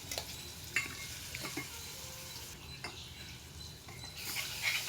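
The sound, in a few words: garlic masala frying in oil in a pan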